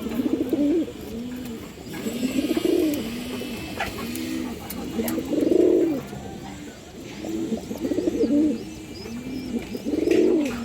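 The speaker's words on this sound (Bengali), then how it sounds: "খুবই সুন্দর একটা নর কবুতর" Male Muslodom pigeon, an old breed, cooing close up in a repeated rhythmic series of deep throaty coos, several phrases in steady succession.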